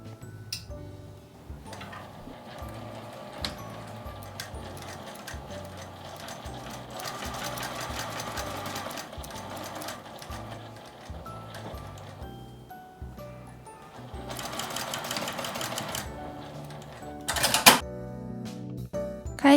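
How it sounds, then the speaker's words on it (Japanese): A sewing machine stitches a seam with a 1 cm allowance in cut cloth for a pen holder, running in steady rapid bursts of needle clatter with brief pauses and a few sharp clicks near the end. "返し口のところを開けて1センチの縫い代で縫います。"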